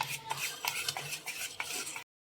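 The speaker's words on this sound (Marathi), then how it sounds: "आता हे चांगलं मिक्स करून घेतलं" A spoon stirs dhokla batter with salt, soda and turmeric in a metal bowl, giving repeated close scraping and clinking strokes in a steady rhythm, with no talking.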